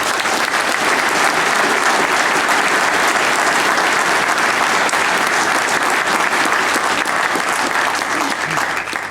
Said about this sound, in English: I think that we should give Mary Lou a round of applause.